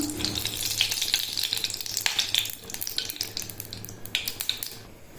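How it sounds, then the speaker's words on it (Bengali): Shrimp frying in oil in a wok, a close, busy sizzle with sharp crackles and spatters rising and falling over a low hum, heard alone without talk. "প্রথমে মাছগুলো ভেজে নেব তেল দিয়ে দিলাম"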